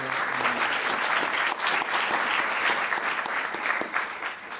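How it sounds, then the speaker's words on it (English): Sustained audience applause in a lecture hall, a dense, even wash of many hands clapping that stays at a steady level throughout, with a faint crowd murmur underneath. "a big round of applause for"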